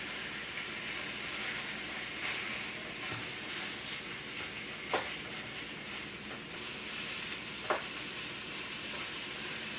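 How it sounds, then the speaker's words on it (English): Sausage sizzling and frying in a pan for lettuce wraps, a steady hiss broken by a few scraping stirs and taps as the meat is broken apart, no talking. "I do want to kind of break this sausage up into small bites"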